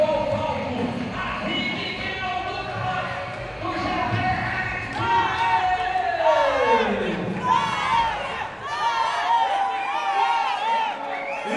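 A packed crowd at a Muay Thai fight in Thailand keeps up a loud, continuous roar of shouting and cheering, with voices swelling and falling throughout.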